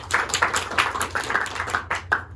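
A classroom of students gives a short round of hand clapping for a classmate, made up of quick, uneven claps at moderate volume that end after a couple of seconds.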